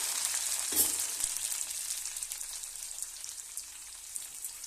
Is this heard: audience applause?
no